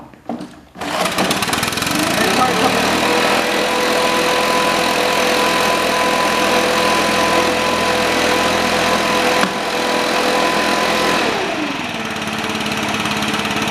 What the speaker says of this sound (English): Now I turn it to a choke, okay, and then I give her a pull.